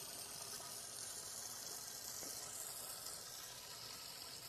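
Steady trickling and gushing water drains out of a plant pot, close and fairly quiet, continuing evenly without pause.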